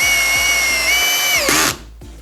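Procraft PA18DFR cordless drill driver on second speed with clutch setting 10 drives a screw, motor whining steadily for about a second and a half before the clutch clicks and it spins down, no talk.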